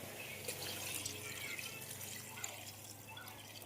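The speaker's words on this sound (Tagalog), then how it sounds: "Kaya lalagyan na natin ng tubig" Steady water pouring into a cooking pot of chicken tinola, a continuous splashing hiss with faint drips, close by and without talk.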